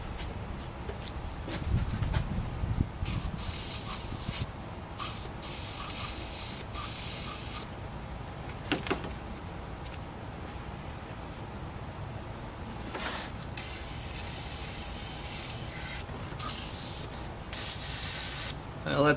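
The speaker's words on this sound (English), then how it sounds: "I'm going to spray this for a second here with some PB Blast" PB Blast penetrating lubricant sprayed onto bolts during timing belt work on a 2011 Subaru Impreza, several sharp hissing aerosol bursts of varying length separated by pauses, close and loud over a faint background tone.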